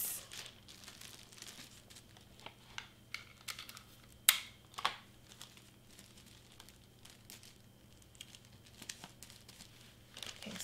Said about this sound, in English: I'm gonna tape this side to close it up.